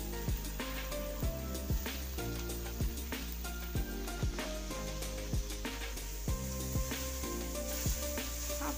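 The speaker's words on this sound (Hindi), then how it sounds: "घी गर्म हो गया है, हम इसमें कद्दूकस किया हुआ गाजर डालेंगे।" Grated carrot frying in hot desi ghee in a kadai, a continuous sizzle with repeated sharp scrapes and clacks of a spoon stirring at a steady rhythm.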